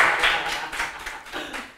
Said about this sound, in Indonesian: Saya boleh tepuk tangan.